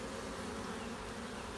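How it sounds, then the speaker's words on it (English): Honey bees flying into the hive, a dense continuous buzzing drone from many insects close by, steady throughout with no talk. "Lots of bees coming in and lots of pollen."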